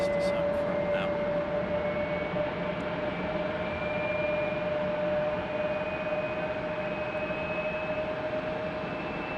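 Airliner at Raleigh-Durham International Airport, a steady loud engine roar with a sustained whine, continuous and fairly close throughout the stretch.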